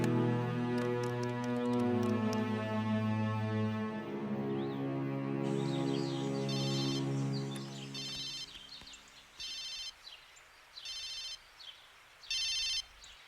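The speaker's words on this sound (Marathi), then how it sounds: "वाघमारे, आमदारांच्या पियाला फोन लावा." A telephone rings during a call, opening with a sustained melodic electronic tone, then a series of evenly spaced short ringing bursts with gaps, moderately loud and with no voices.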